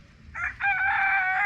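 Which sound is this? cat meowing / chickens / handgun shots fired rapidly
chickens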